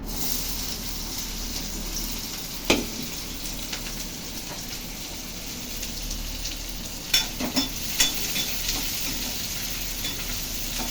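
Onion slices frying in hot oil in a pan, a steady soft sizzle throughout with a few sharp stirring clinks and scrapes, close and moderately loud.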